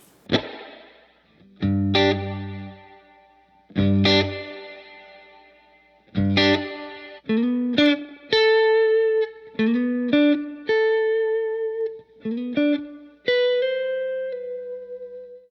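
UAFX Golden Reverberator reverb pedal on an electric guitar, a series of picked chords and single notes whose tails grow from short to long, lush washes as the decay is swept across its range.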